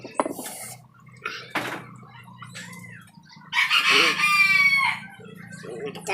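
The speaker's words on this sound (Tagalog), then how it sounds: "may manok sa likod" A rooster crows loudly in the middle, with scattered clucks and light clattering around it and brief bits of nearby talk.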